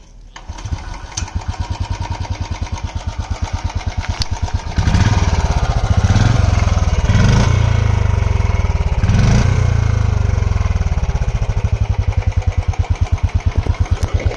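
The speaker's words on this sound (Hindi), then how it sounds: "आफ्टर मार्केट जब एग्जॉस्ट लगाते हैं तो एक तो सबसे ज़्यादा लाउड हो जाता है, वो साउंड अच्छा खासा बढ़ जाता है।" A Royal Enfield Bullet 350 BS6 with an aftermarket exhaust runs close by, its single-cylinder thump loud and rhythmic. The engine revs up a few times before settling back toward a steady idle.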